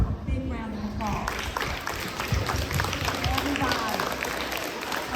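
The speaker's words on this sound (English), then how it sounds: "Let's give her a big round of applause." An indoor audience claps steadily in a warm round of applause, a continuous patter of many hands as a speaker's voice carries over it.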